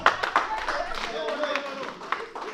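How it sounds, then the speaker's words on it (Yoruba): Crowd at an outdoor Isese Day 2025 traditional festival gathering applauding, dense scattered hand claps rising over murmuring voices and a lingering voice, moderately loud and close. "Ìjẹ̀lú ẹ pàtẹ́wọ́ fún ìyá wa."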